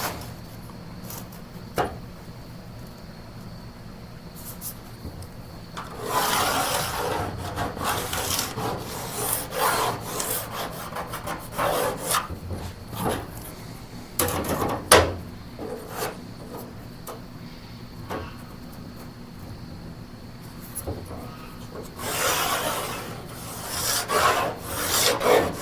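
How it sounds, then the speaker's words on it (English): A cutoff wheel slices through the steel hood of a vintage Chevelle to open louvers, a harsh grinding rasp that comes in several sustained bursts with short pauses between, loud and close. "I will take a cutoff wheel, follow my lines, and"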